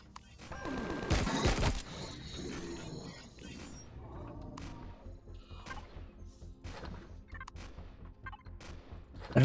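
Video game gunfire opens with a loud burst of shots. Scattered sharp cracks and impacts follow at lower level, and a final loud hit lands at the very end.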